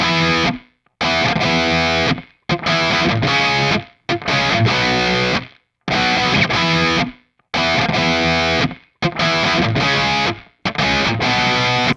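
Heavily distorted metal guitar riffs through an amp simulator's heavy channel at stock settings, chugging in repeated loud bursts, separated by short tight gaps, thick and saturated, with no talking.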